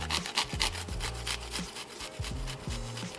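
Fresh garlic rasped against a grater in short quick strokes, a close, soft scratchy rhythm over faint background hum, with no talking.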